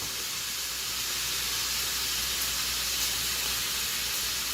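Onions go into sizzling bacon fat in a wok, producing a steady loud hissing sizzle that holds evenly throughout without pauses.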